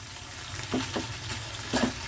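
Moringa drumsticks cooking in a pan on a gas flame turned up high while the water boils off: a quiet, steady sizzle broken by two brief stirring scrapes.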